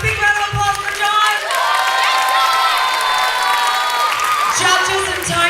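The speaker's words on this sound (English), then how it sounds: "Big round of applause for John" Trivia bee audience cheering and clapping for John, with high excited shouts and whoops from a large, lively crowd, loud and continuous across the whole stretch.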